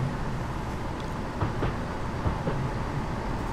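A high-speed train rolls past on the London to Faversham route in Train Simulator 2015, a steady, loud rumble of wheels and rail noise with a few faint clanks and no speech.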